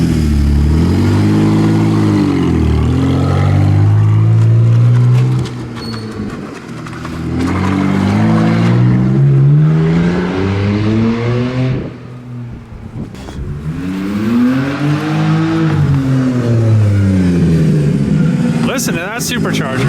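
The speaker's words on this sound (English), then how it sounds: "Listen to that supercharger." A supercharged BMW E46 drift car engine revs close and loud, its pitch rising and falling in several long sweeps, with a brief dip before it climbs again.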